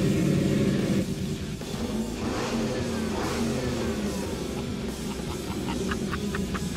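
A customized 1953 Chevy truck's engine revs loud and close, a continuous throaty roar that holds steady and swells slightly, with no talking.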